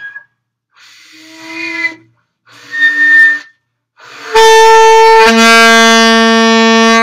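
A saxophone whistle-tone exercise: two soft, breathy, wavering attempts with short gaps, then a loud, bright, sustained whistle tone that holds steady to the end.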